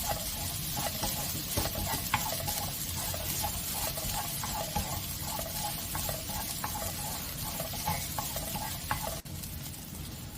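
Spicy fish cake fried rice being stir-fried in a pan, giving steady sizzling with continuous scraping and stirring clatter from start to finish.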